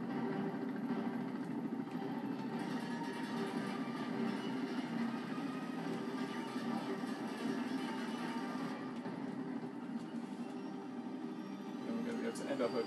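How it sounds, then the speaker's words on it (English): A train rolls along in Uncharted 2 while a helicopter attacks it, a steady low rumble and rattle of carriages carrying on without a break beneath talking. "You're on a train being attacked by a helicopter."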